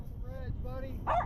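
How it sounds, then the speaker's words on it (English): A dog barks aboard a drift-fishing boat on the Lower Laguna Madre, a short yipping burst near the end over a steady background with talk running beneath it. "And Cassie barked up a 25-inch redfish right here"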